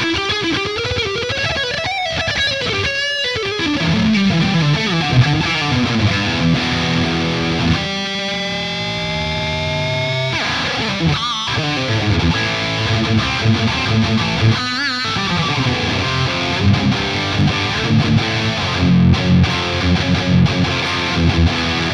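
Distorted electric guitar played with a pick through an IK Multimedia Tone X One amp modeler, with dynamic picked attacks, chords and single-note runs ringing loud and close without any talk.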